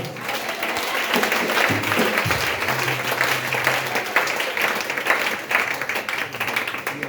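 Church congregation applauding during worship, sustained dense clapping from a crowd in a reverberant hall, steady and moderately loud with a faint voice and low tone underneath.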